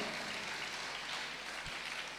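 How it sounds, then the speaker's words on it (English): An audience applauds students at a two-day engineering college conference, a steady wash of clapping that is fairly faint and even throughout, with no voices. "give them a clap"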